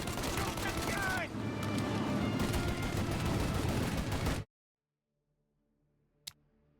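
Sustained gunfire from a shootout in the video game Mafia: Definitive Edition, dense and loud for about four seconds, then cutting out abruptly into near silence broken by one faint single shot.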